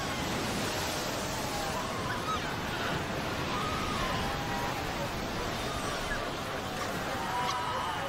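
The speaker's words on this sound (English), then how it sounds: "The pups fight desperately against the onslaught of the waves." Ocean surf washes steadily over a beach in a continuous broadband roar of breaking waves, with no clear gaps and no talk.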